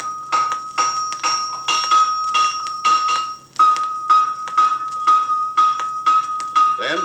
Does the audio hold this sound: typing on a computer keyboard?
no